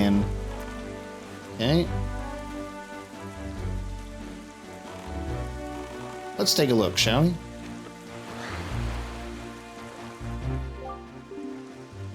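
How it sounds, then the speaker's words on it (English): Gloomy in-game rainfall from The Legend of Zelda: Wind Waker patters steadily beneath a music score, with someone talking briefly over it. "The weather system actually looks really good when this gets all gloomy and rainy."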